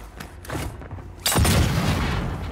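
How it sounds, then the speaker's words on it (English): A thermite grenade goes off in a Call of Duty match. A quieter stretch of scattered thuds gives way midway to a sudden loud boom, then a sustained, dense crackling burn. "I threw a thermite"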